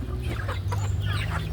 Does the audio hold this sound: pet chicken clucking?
yes